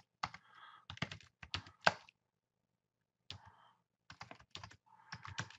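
Keys clatter in short quick bursts on a computer keyboard, close and fairly quiet, with a pause of about a second midway and no talking.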